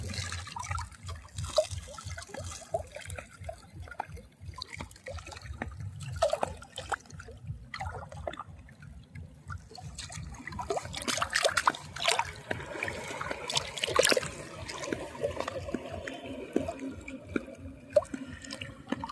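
Padma river current flowing steadily, a continuous watery wash and trickle with a faint rhythmic low thumping underneath, heard with no one speaking.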